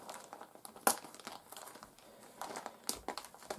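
Scissors cut the painted polycarbonate body shell of a Tamiya Grasshopper RC car, giving quiet close crinkling snips and plastic crackles at an irregular pace, with one sharper snap near the start.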